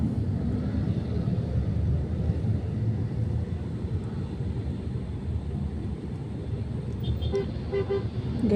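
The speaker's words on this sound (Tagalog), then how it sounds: "Guys, traffic." Busy street traffic in BGC Taguig hums with a steady engine rumble, and several short car horn toots sound near the end, moderately loud and close.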